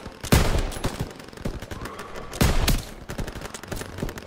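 Machine gun fire in Call of Duty WW2, two loud rattling bursts with scattered single shots and distant crackles between them, close and punchy.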